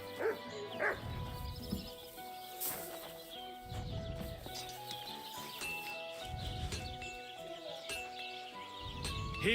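Dog Mutt in Kingdom Come: Deliverance 2 giving a few separate barks at a moderate distance, spread over a busy game soundscape with horse hooves and music-like tones, with no one talking.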